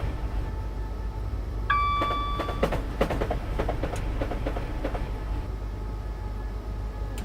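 A simulated train in Dovetail's Train Simulator rumbles low and steady as it slows on the approach to Croydon, with a short chime near the start and a run of clicking rail joints.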